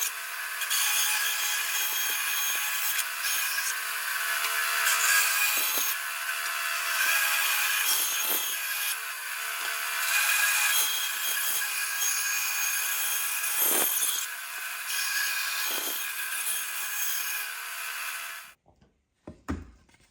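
A saw cuts steadily through a tortoise celluloid guitar pickguard blank, a continuous bright rasping whine with slight dips in pitch, close and loud for about eighteen seconds before stopping abruptly.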